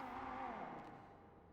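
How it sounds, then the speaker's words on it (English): A car in GTA V NoPixel drives past outside, a brief engine hum with a gliding pitch that fades as it moves away, heard faintly and without talk. "Car in here?"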